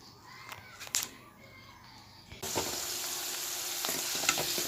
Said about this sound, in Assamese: আলু কেইপিচ ভজা হ'ল।